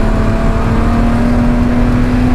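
Race car engine at full throttle on the Oulton Park circuit, a loud, steady high-pitched drone with a strong sustained tone, heard close up throughout with no talk.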